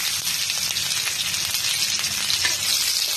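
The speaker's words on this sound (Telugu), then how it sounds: "నూనె బాగా కాగిందని ఇప్పుడు కాకరకాయ వేసుకుందాం" Bitter gourd pieces dropped into hot oil, frying with a loud, dense sizzle that stays steady and close throughout, with no voices over it.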